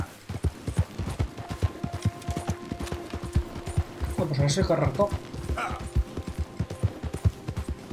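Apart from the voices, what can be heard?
horse hooves galloping in video game Red Dead Redemption II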